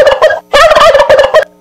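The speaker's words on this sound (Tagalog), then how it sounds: "ang inyong napapakinggan ay yan ho'y salita ng isang pabo o turkey" A turkey gobbles loudly and close by in two rapid, warbling bursts separated by a short gap.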